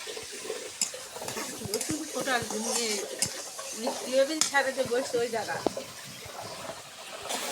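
Ground spice paste of ginger, cumin and garlic with coriander powder fries in oil for a pigeon curry, sizzling and scraping in uneven bursts as it is stirred, while a voice talks over it.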